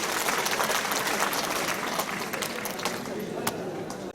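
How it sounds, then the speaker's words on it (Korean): Applause fills the room at the close of an inauguration ceremony for the 29th alumni association president of Chongshin University's theological seminary, dense and steady clapping from a crowd that thins slightly toward the end. "박수로 하나님께 영광 돌리겠습니다."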